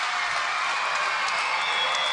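A home crowd at a beach volleyball match in Rotterdam cheers and applauds, a dense, steady wash of clapping and voices that stays even and moderately loud throughout.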